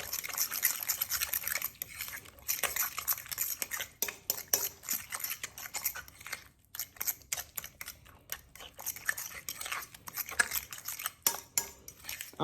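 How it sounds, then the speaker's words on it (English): A crab cake mixture with Old Bay seasoning and egg is stirred in a bowl, giving steady wet squelching and light clinking of a utensil against the dish, close and alone with no talk. "I'm going to go ahead and mix this all up."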